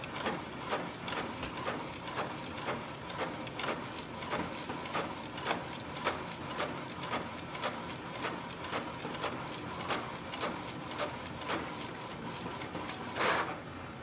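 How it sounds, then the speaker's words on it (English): A Canon Pixma G7020 printer printing a page, giving quiet, regular mechanical clicks and thumps at an even rhythm, with a brief louder whir near the end. "So it is printing."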